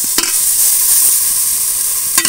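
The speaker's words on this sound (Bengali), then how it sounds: "আদা কাঁচা গন্ধটা যাওয়া পর্যন্ত একটু মশলাটা কষাবো" Ginger paste and chili powder sauté in hot oil for chicken khichuri, giving a loud, steady close-up sizzle with a couple of brief stirring scrapes at the start and end.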